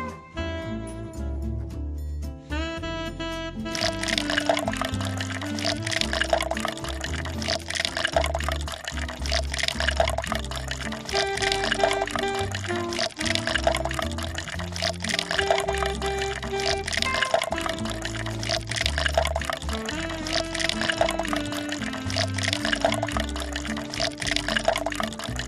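Liquid pours steadily into a graduated cylinder in a lab, a dense continuous splashing and gurgling that starts after a brief quieter moment and carries on loud and close throughout, with no talking.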